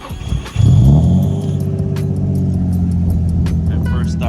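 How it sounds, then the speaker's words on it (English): A 2006 Nissan 350Z with a newly replaced starter cranks briefly and then fires, its engine catching with a loud low rumble that settles into a steady, close idle. "now with the starter back in, we're gonna go ahead and start this like normal"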